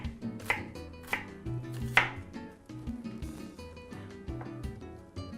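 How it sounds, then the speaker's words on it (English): A knife chops half an onion finely on a board for Guatemalan salsa and guacamole, a quick run of crisp close taps and thuds in an uneven rhythm, with no one talking. "You wanna make sure that you actually mince this very finely. And we're gonna go ahead and mince half of this onion right here."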